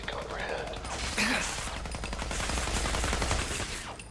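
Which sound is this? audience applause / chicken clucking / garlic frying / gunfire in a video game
gunfire in a video game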